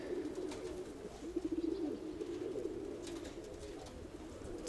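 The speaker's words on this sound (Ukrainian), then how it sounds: "Ця пара якраз це батьки моєї найкращої голубки." Pigeons coo softly in low, rolling warbles, several birds close by with a steady background murmur.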